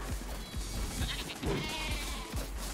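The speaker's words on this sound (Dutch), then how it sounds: "waarom zijn er zo fucking veel schapen?" Angry sheep in the video game Tokyo Jungle bleat repeatedly in short, rhythmic bursts over a low steady game hum, fairly close and loud.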